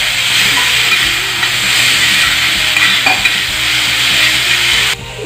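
Green chillies and ginger garlic paste fry in a pan for tawa pulao with a loud, continuous hissing sizzle, stirred now and then, close up and without talk.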